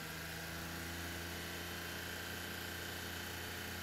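Engine of a Mitsubishi Minicab with a suspected bad fuel pump and low power, a steady droning hum with a constant low tone, faint and even with no clear rise in pitch.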